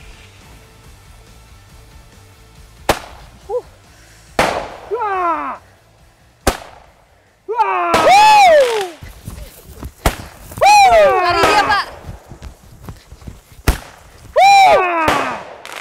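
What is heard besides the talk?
firecrackers exploding to scare elephants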